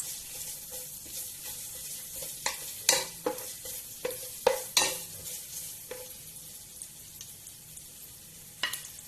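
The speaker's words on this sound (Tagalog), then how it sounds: "Ngayon ay igigisa natin ang luya." Ginger sautéed in a pan for sinigang na lapu-lapu with shrimp, a soft background sizzle broken by a series of clattering spatula scrapes and knocks against the pan, close and irregular.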